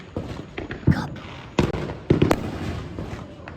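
Fireworks explode outdoors in a series of loud, sharp booms and crackling bursts, several blasts spaced irregularly over a few seconds with a rumbling tail between them.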